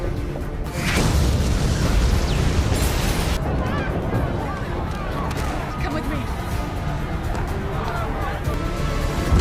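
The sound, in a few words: explosion in a film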